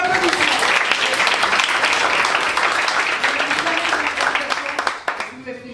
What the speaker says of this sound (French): Sophie, sous vos applaudissements.